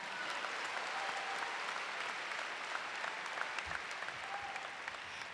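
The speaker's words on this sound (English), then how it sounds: "yes, you can clap about that" Applause from the audience at a university convocation ceremony, a fairly distant, even patter of many hands held at a steady level from start to finish.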